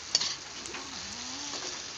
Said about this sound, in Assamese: মই আলুখিনিৰ লগতো ধুনীয়াকৈ ভাজি লৈছোঁ